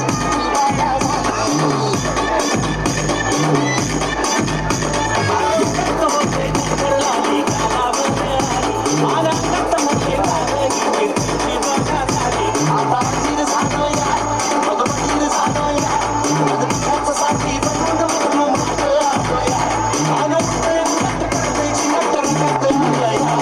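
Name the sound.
loud applause for the cricket final prize winners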